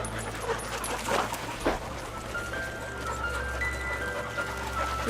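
Young hunting dogs on a morning outing after finding quail, heard as soft close panting and faint whimpers over a steady low rumble of wind or background noise.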